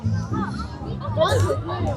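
Dense festival crowd at the Gandagana rural tourism fair in Batumi, Georgia: a steady babble of many voices with children's calls close by, people talking all around without a break.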